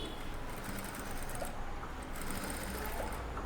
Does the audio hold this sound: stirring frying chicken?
no